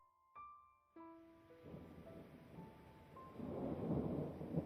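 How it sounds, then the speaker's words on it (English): A storm sound effect builds after a pair of struck musical tones: low rumbling thunder rises beneath steady, swelling rain, growing louder toward the end with no voices. "the wind and the water motes begin to stir and whip up into a massive storm all around you"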